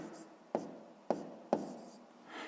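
Pen strokes writing out a sixth-grade maths fraction solution, three short scratchy bursts spaced about half a second apart, close and quiet with soft room hiss between them.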